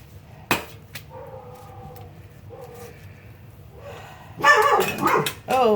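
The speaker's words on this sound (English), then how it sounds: "Oh, the dogs." Dogs bark outdoors in sharp bursts: a single bark early, scattered yips and whimpers, then a louder flurry of several barks near the end, with a faint hammer-like knock in between.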